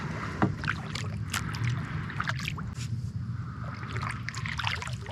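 Kayak gliding downstream on a spring-fed Florida river with the current, paddle strokes dipping and dribbling water in a steady rhythm close by, over a constant low hiss of flowing water and light wind.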